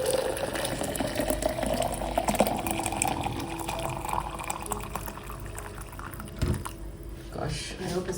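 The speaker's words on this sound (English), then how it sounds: "let's add the hot water to the" Hot water splashes and gurgles as it is poured onto ground coffee with nutmeg, a steady liquid rush with a heavier gush near the end, close by and fairly quiet.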